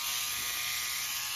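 A battery-operated electric toothbrush buzzes steadily while scrubbing parts of a Westclox Big Ben Style 7 clock movement, a continuous close, even whir with no talk.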